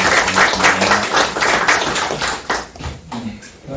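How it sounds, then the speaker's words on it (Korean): An audience at a Korean seminar claps to welcome a guest, uneven bursts of hands clapping close by that thin out toward the end, with faint murmuring underneath. "여러분 박수로 환영해 주시기 바랍니다."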